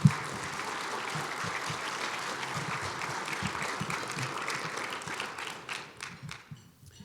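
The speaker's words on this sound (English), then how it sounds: "Let's give all of our sponsors a big round of applause." A large audience at a State of the City event applauds the sponsors, steady dense clapping that holds for several seconds and then thins out toward the end.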